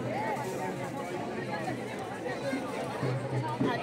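Crowd chatter fills the evening Bhimthadi Jatra fair in Pune as a steady murmur of many voices close by, with one nearer voice talking over the babble.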